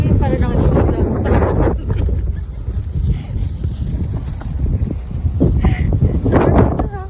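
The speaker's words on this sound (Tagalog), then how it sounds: "ang lakas ng hangin" Strong wind blowing on a street, loud buffeting rumble against the microphone throughout, with people talking under it.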